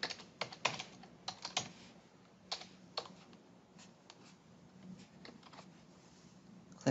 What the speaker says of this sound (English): To access your account, you'll type in your username